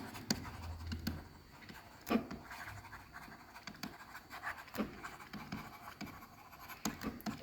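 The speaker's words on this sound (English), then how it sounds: "Let's write it down." Pen or pencil writing by hand on paper while working an accounting exam answer, a quiet close scratching with short strokes and pauses, no talk.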